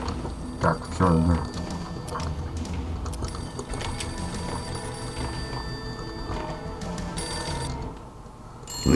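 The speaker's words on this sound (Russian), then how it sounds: "Телефон звонит." A telephone rings repeatedly in the video game Max Payne over a busy mix of game sounds and music, the electronic trill recurring in bursts.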